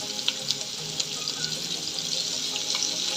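Chopped onion and chilli fry in oil left from frying crab, giving a close, steady bright sizzle that holds throughout, with a few small pops and spatters near the start.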